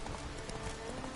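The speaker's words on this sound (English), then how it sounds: "Oh, that was one of his horses." Horse hooves clip-clopping in The Witcher 3, a quick, soft rhythmic patter of hoofbeats from a game horse, faint and brief.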